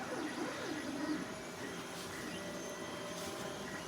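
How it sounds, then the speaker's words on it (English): Steady whirring of a 3D printer and computer fans, with a constant fan-like hum and faint mechanical whine, continuous throughout with no pauses. "I've got that 3D printer printing"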